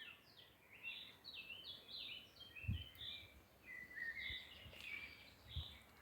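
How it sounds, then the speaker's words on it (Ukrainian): Several birds chirp and warble in quick repeated phrases, moderately distant, over a quiet outdoor background with a couple of soft low thumps. "А як співають пташки? Чуєте?"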